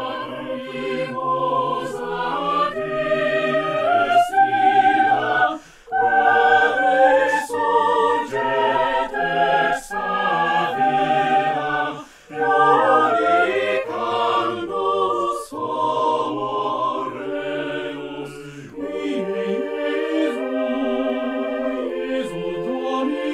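A choir built from four voices, with several voice parts, sings sustained chords in a slow, smooth progression, with brief pauses between phrases.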